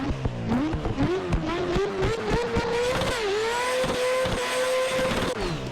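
A rotary-swapped McLaren drift car in Assetto Corsa, its engine running with a steady, rising buzzy drone that climbs in pitch and holds high, with sharp clicks and bursts throughout and no talking.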